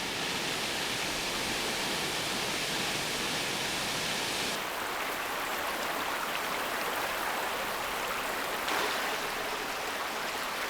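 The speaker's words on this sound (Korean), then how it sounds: "그러나 비룡폭포는 영하 50도의 날씨에도 물길을 멈추는 법이 없다." Biryong Waterfall on Mount Baekdu keeps pouring in fierce winter cold, a steady broadband rush of falling water that swells brighter partway through and holds loud and continuous with no voices.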